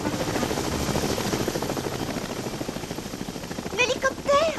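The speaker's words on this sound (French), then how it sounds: "C'est l'hélicoptère." A helicopter's rotor thrums in a continuous rapid beat, loud and near, while a voice speaks over it toward the end.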